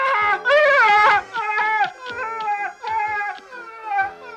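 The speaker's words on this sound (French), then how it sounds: "C'est plutôt un hurlement de douleur." A cartoon dog howls in pain, a loud, close series of wavering, whimpering howls and yips that rise and fall in several drawn-out bursts, heard alone without talk.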